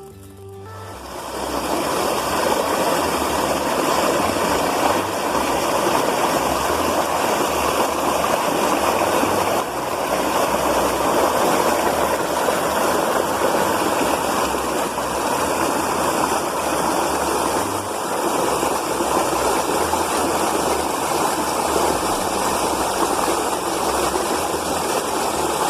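A mountain waterfall and stream in Uttarakhand rush steadily and loudly without pause, a dense close wash of falling and flowing water with no speech.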